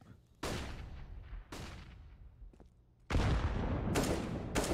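Several loud, sharp blasts with long decaying tails, close by and spaced a second or so apart, from grenades going off in a CS:GO match on the Mirage map during a pro game.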